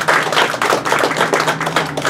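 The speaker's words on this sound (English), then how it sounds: "Could you all give them a round of applause?" Audience applause at a log craft demonstration at a log house museum, a dense, steady burst of clapping from a crowd, close and loud throughout.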